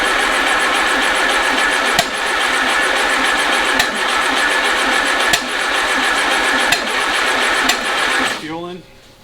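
A Go Devil engine runs steadily with a loud, dense mechanical drone and a few sharp periodic knocks, then cuts out abruptly near the end, leaving a brief falling whine.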